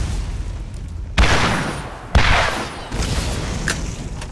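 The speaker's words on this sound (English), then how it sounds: "I might just be able to kill this guy with the rocket launcher after all" Rocket launcher blasts in the Borderlands video game: two sharp, loud explosive booms about a second apart, each decaying into rumble, followed by a softer third burst amid ongoing background game noise.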